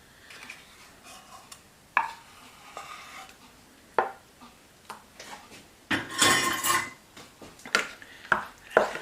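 A spoon works sticky peanut butter into a mixture of melted butter in a bowl, with irregular clinks and scrapes against the dish, some sharper knocks, and a louder scraping burst midway.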